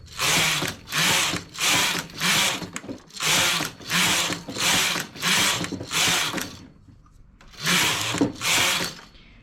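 Knitting machine carriage being run back and forth to knit a hem in a single color, giving loud, even bursts of mechanical clatter about a second long, each followed by a short pause, with a longer gap near the end.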